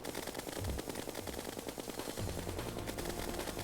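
Flash rounds fire rapidly in the Terraria game during a King Slime fight, a dense, continuous stream of loud gunshots that never lets up.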